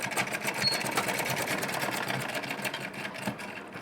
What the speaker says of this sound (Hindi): और एक सिलाई चलिए लगा लेते हैं यहाँ भी।